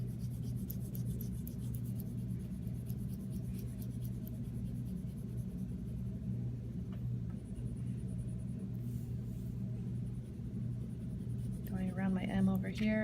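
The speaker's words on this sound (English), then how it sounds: "to pick up a green crayon and I'm going to fill in some green for the ground where there would be grass." Waxy scratching and rubbing of a green crayon filling in grass on a paper drawing, steady back-and-forth strokes under a constant low hum, with a voice speaking near the end.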